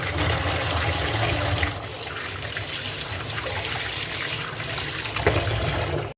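Tap water runs steadily while freshly cut fish is rinsed in a home kitchen, a continuous close splashing and trickling stream with no talk.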